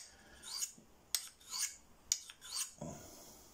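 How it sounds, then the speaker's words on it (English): A Rough Rider skinner knife is drawn across a Fallkniven CC4 ceramic sharpener in about four quick, close rasping strokes, each a bright scraping swipe separated by short pauses, with a small clink between strokes. "So, now again, we're just going for a quick sharpen."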